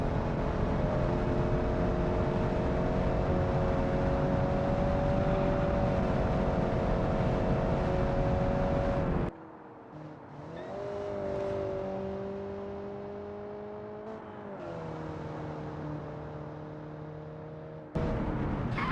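A 38-horsepower car engine with a solid rear axle in the video game Automation, droning at a steady high pitch, then cutting off sharply, rising again and holding before surging back loud.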